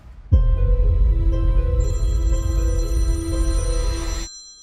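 A telephone on a film set rings out in a steady electronic trill, loud and close, sounding alone for about four seconds before cutting off abruptly.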